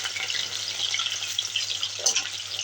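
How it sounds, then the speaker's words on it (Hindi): Cut potato pieces fry in plenty of hot oil for a pea nimona dish, a dense, steady hiss and crackle close up, with one brief louder burst near the end and no talking. "आलू के टुकड़े जो हमने काटे थे उसको हम इस तेल में फ्राई करेंगे"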